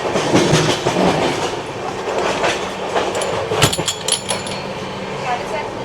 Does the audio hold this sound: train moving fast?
yes